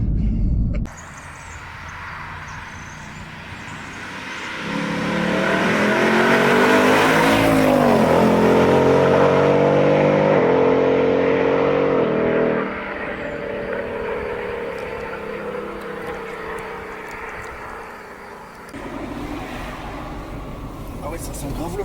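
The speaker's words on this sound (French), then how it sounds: "J'avais dit qu'on pouvait faire une vidéo de 20 minutes où juste on entendait le moteur." A Ford Mustang GT with a 450-horsepower engine driven near Châtelaillon, rising to a loud sustained rev mid-clip before settling back to a steady drone, with faint road noise.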